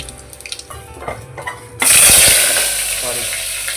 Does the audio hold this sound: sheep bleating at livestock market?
no